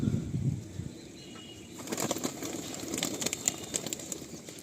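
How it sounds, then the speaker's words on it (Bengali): About forty Andhra pigeons in a loft burst into wing-flapping after a low opening, with repeated flutters and clattering wingbeats at moderate volume. "এখানে প্রায় 40টা মতো আন্ধ্রা পায়রা রয়েছে"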